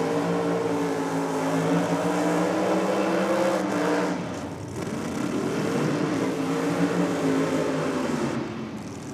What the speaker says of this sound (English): Strong burnout there from the Ford Cortina. Plenty of RPM on board there.